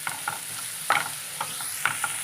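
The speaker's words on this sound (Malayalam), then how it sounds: "സവോളയൊക്കെ ഒന്ന് വഴണ്ടി വന്നിട്ടുണ്ട്" Sliced onions sautéing with a pinch of salt in a pan for a prawn curry, giving a steady close sizzle broken by several sharp stirring scrapes at an uneven rhythm, with no talking.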